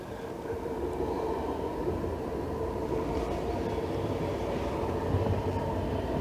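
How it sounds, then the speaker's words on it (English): Trams rolling past on an urban stretch of the River Trent during the morning rush hour, a steady, continuous rumble that holds at moderate loudness for the whole stretch with no voices. "Lots of trams this morning."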